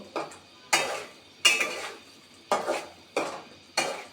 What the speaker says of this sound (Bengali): টমেটো দিয়ে মশলার সাথে আবার মিশিয়ে নিব